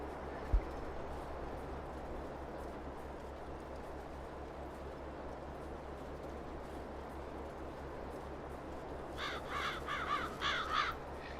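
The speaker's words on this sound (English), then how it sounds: "There's the crows squawking away." Crows cawing in a rural Farming Simulator 22 soundscape, a cluster of harsh calls arriving near the end over a steady low ambient bed of wind and countryside hum.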